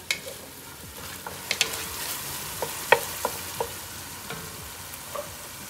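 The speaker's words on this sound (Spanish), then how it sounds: "Enseguida nos vamos a traer el ajo para que se dore." Garlic fries in a pan with a steady sizzle, broken by sharp clicks and taps of stirring spread through the stretch; no one talks.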